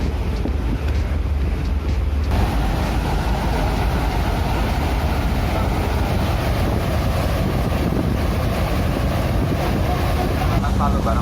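Steady broadband engine drone and wind rush aboard the passenger ship KM Bahari sailing to Sabang, loud and continuous throughout, with a deeper low rumble and no speech.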